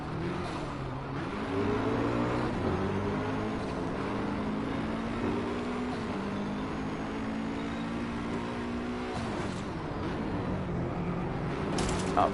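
A car's engine revs and shifts through gears in the racing game Driveclub VR on PS4 Pro, rising and falling pitch sweeps running steadily and fairly close with no talking.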